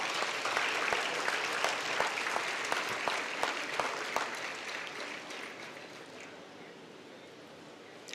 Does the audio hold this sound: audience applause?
yes